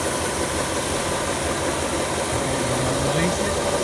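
Electric motor powered from a battery, running under load during a fault test: a steady droning hum with a slight pitch drop toward the end, close and continuous.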